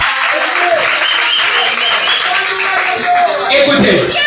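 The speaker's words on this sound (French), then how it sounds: "Est-ce que tu peux acclamer pour le roi de roi?" A church congregation applauds and cheers for the King of Kings, a dense, steady wash of clapping and voices that holds at full loudness throughout, with talking mixed into the crowd noise.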